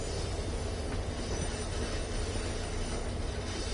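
Diesel locomotive, an F40 on the MBTA Boston to Worcester line in Train Sim World 5, runs with a loud, continuous rumble of rolling wheels and engine noise and a thin squeal above it.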